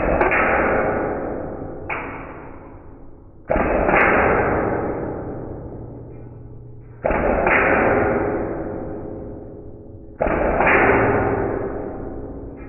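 Cybergun Colt 1911 airsoft pistol firing plastic BBs with blowback, five sharp close cracks spaced a few seconds apart, each leaving a long fading ring, no talking.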